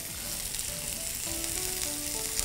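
Meat grilling on a barbecue with mala chili sprinkled over it, giving a continuous close, even sizzle and crackle with no talking.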